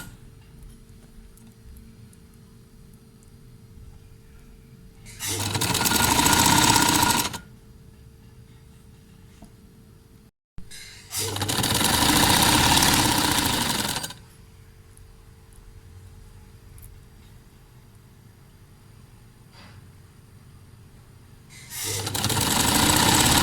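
A sewing machine stitches the shoulder seam of a shirt in three loud runs of rapid mechanical whirring, each lasting a few seconds, separated by quieter pauses with low background hum.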